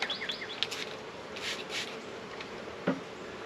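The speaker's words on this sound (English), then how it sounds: "where you pour bees like lava or water into a hive" A soft, steady hum of many honeybees being poured into a hive, with a rustling, sliding texture and a few brief scrapes and bumps, fairly close.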